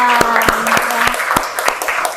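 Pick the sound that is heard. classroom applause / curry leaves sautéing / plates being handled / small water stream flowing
classroom applause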